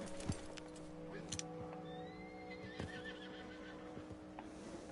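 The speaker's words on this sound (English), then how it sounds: "The white Arabian horse." A white Arabian horse in the video game Red Dead Redemption 2 whinnies in a long rising neigh, with hoof clip-clops and game ambience underneath, moderately distant and without speech.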